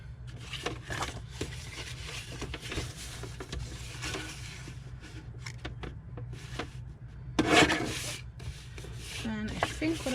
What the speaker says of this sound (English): So I'll just trim the top of this.